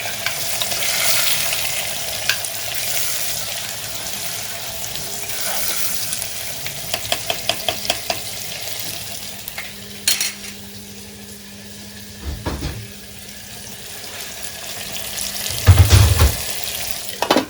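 Okra (bhendi) stirred and frying in oil with a little powdered salt, a steady low sizzle running throughout with scattered spoon scrapes and clinks against the vessel, and a few louder knocks near the end.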